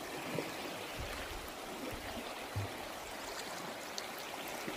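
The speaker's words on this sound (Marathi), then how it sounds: "पाहू शकता हे पाणी आलेलं आहे।" Steady rush of rainwater flowing beneath a bridge, a continuous broadband wash heard up close and alone with no voices.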